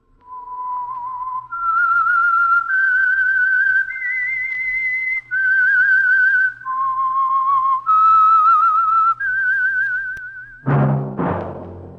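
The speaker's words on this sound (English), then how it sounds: "That whistle is your signal for the Signal Oil Program" A melodic whistled tune, clear and close, opening a radio mystery program, stepping through sustained notes with slight vibrato, ending in a brief sharp musical sting.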